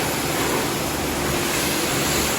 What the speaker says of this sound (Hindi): ये गाड़ी वॉश हो रही है, ज़बरदस्त सिस्टम है वॉशिंग का।